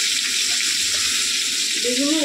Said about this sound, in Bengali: চলো মাছগুলো ভেজে নেবো